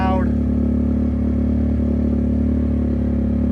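Can-Am Outlander ATV fitted with an Empire aftermarket exhaust, idling steadily with a loud, throbbing low rumble that holds even throughout, close to the microphone with no talk over it.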